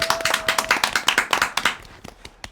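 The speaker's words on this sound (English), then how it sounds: "Let's have a round of applause for the people." A small group claps for the people at a reaction show reunion, a quick run of individual hand claps close by, fading out toward the end.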